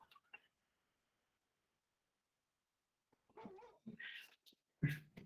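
A pet dog whimpers and yips in short, faint bursts after a long near-silent pause, the thin whines rising in pitch at close range in a quiet home room.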